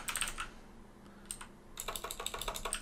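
Rapid keystrokes on a computer keyboard while entering a REST API query, two bursts of quick, close clicks separated by a short pause, with no talking.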